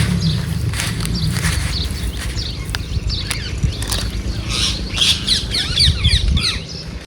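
Birds squawk and chirp in a busy flock after sev is scattered for them outdoors at a hill site, with steady rustling and shuffling underneath and calls overlapping throughout.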